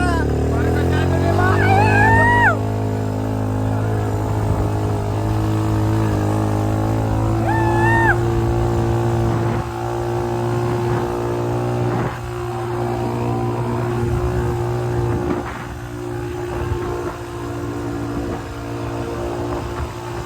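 A jeep on a friends' trip in Rajasthan drones with a steady engine hum and road noise throughout, while voices shout and chatter over the ride.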